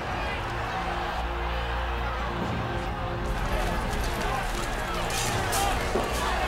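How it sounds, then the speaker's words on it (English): A rioting crowd of sports fans roars at a match amid violence, a dense, continuous loud roar of many voices filling the whole stretch, with a slight swell toward the end. "Listen to the crowd roar."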